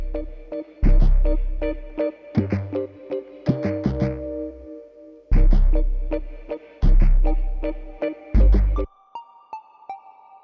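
A hip-hop beat built from layered one-shot samples: deep booming bass hits with punchy drums and short tonal stabs in a choppy, stop-start groove, loud and upfront, ending in a softer ringing tone.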